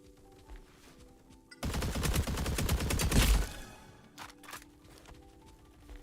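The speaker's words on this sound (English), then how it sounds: "This AK is doing bits right now." Rapid automatic AK rifle fire in the Roblox shooter game, a dense burst of about twenty shots lasting under two seconds, loud and close over quiet game background sounds.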